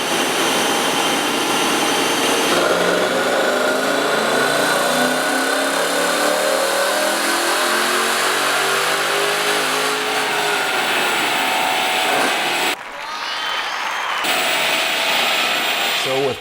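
A cammed 5.7 Hemi with its airbox disconnected revs hard on a dyno, a loud sustained roar that climbs and holds before dipping briefly near the end.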